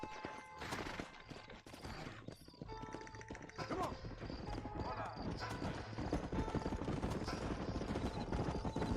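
In the Red Dead Redemption video game, a horse runs off with rapid hoof clip-clops that keep going under steady gameplay ambience and a faint whinny.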